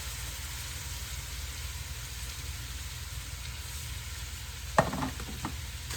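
Potatoes for smothered potatoes sizzling gently in a pan after being seasoned with Tony Chachere's seasoning, a low continuous fry near the mic, with a few sharp utensil clanks and stirring noises near the end.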